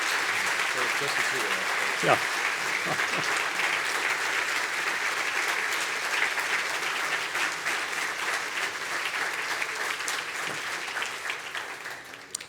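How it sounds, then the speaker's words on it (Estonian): An audience claps for Joakim Helenius and his son: sustained, dense applause from a crowd throughout, with a brief spoken word and some voices underneath. "aplaus Joakim Helnisele ja tema pojale"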